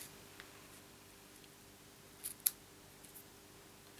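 A couple of quiet, crisp scissor snips trimming the edge of a handmade stamped card decorated with vellum flowers, brief cuts against a near-silent room.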